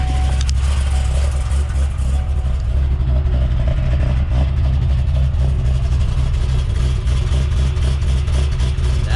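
A Chevrolet Corvette C6 ZR1 with long tube headers runs steadily from a cold start, a deep, loud, continuous engine rumble with slight rises in revs and no talk over it.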